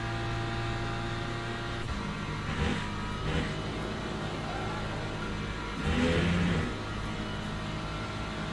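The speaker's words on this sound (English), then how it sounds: "That's an LMP2 coming through" An LMP2 prototype racing car in the Le Mans Ultimate sim comes through over the player's own steady engine drone, adding a brief rising whine before the sound settles again.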